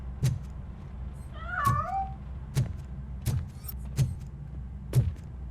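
A cat meows in RoboCop Rogue City as it escapes: one drawn-out, wavering meow in the middle, set among several sharp, regular thumping impacts that sound like footsteps, with no talking.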